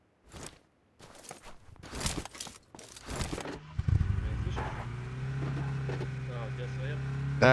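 Car engine in the video game PUBG Lite, starting after a few scattered thumps and footstep-like knocks, then a steady droning hum that holds at moderate loudness to the end.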